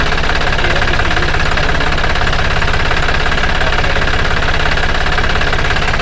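A small modified Ninja HP tractor engine runs steadily at close range, a loud continuous idle with a rhythmic knocking pulse and vibration throughout, no voices over it.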